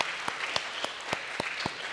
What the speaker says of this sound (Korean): 우리 환영의 박수 같이 할까요?